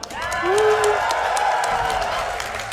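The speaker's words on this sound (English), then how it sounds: "Can I get a cheer from the audience for that?" A live audience at the Awesome Games Done Quick speedrunning marathon cheers and claps in a loud, close burst. A few whoops rise above the sustained crowd noise before it slowly thins out.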